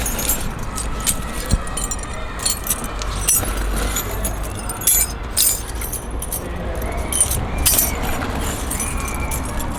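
A bunch of keys jangles and clinks continuously, close up, inside or beside a car, with faint road and vehicle noise underneath.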